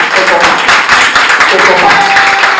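Audience at a press conference for Werrason applauding in a loud, steady wash of many hands clapping at close range, continuous for the whole stretch.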